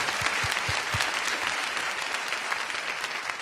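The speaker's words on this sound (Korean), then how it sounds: "하나님께 박수, 영광, 할렐루야" A church congregation applauds steadily, a dense wash of many hands clapping, fairly close and continuous for the whole stretch with no pause.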